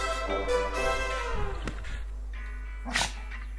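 A cartoonish dog in Lost in Play wakes with whimpering and yips, a few short barks close up amid playful game music and a steady low hum.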